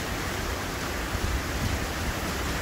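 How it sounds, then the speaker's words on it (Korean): Fast-flowing treated water pours out from the Seonam water reclamation center into the Han River on a freezing winter day, a steady, dense rushing wash that stays constant and close throughout. "빠르게 흐르는 물살 보이시죠? 근처 서남 물재생센터에서 나오는 물입니다."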